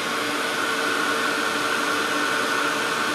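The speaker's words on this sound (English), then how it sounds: "I love this heated craft tool. Dries things fast and it's quiet." A steady, even blowing hiss of a heated craft tool drying a decoupage project, running continuously with no pauses or talk.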